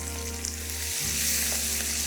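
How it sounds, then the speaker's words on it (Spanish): Oil sizzles steadily as meat fries in a paella pan, a continuous close crackling hiss with a brief stir or turn partway through, no voices. "el sonido del aceite es el que os indica que si tenéis que subir o bajar el fuego"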